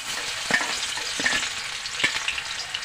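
Garlic hits hot oil in a pan after frying kat vada, giving a close, steady sizzle with a few sharper crackles and spoon clinks, and no talking.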